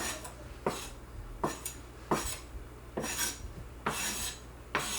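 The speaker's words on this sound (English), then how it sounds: "Scrape it off into this here." Diced cilantro scraped off a cutting board, likely with a knife blade, into a container for salsa: about seven short, close, gritty scrapes and knocks in a steady rhythm, with no talking.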